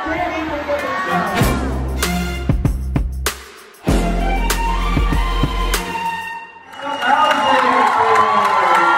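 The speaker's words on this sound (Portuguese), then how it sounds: "Grita, gente! Eu tenho potencial!" An audience at a speaking event shouts a phrase together, several loud bursts of massed voices with cheering and whoops, broken by short pauses and a speaker's amplified voice.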